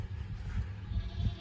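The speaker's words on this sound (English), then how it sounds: "we're weaning all the bucklings. We got 47 bucklings out here." Weaned young goat bucklings bleating together in a farm pen, low overlapping calls repeating a few times through steady background noise, fairly close.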